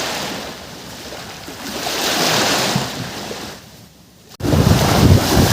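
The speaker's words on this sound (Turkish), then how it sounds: "Rüzgar çıktı. Deniz dalgalandı." Steady wind and surf roar together on a seashore, swelling and easing, then a sudden louder rush of wind buffeting close to the microphone near the end.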